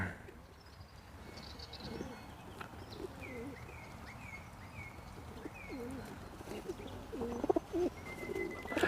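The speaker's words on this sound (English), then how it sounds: "there's heaps and heaps of pigeons at this wildlife park" Pigeons at an Australian wildlife park coo in soft repeated calls against a faint outdoor background, with a few other bird chirps scattered through.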